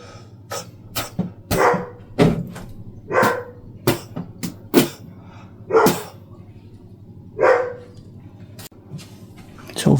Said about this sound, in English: you can see the border collie that made the noise